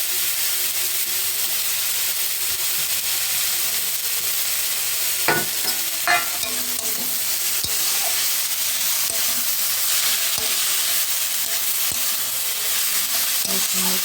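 Chopped coriander leaves stirred into a radish paratha filling in a pan, a steady sizzling hiss with a few scraping strokes of the spatula, close and continuous, no voices.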